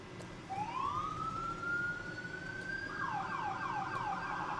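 A 2026 Ford F350 brush truck's siren wails, rising in a long sweep and then breaking into fast repeating yelps, loud and steady over a low rumble with no talking.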